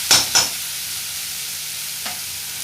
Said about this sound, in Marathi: 5 मिनिटं मंद आचेवर आपल्याला हे भाजून घ्यायचं आहे